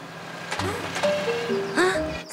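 Loud music playing from a cartoon truck in a kids' show, a bright, tinny tune with a few melodic notes over a steady engine-like background hum.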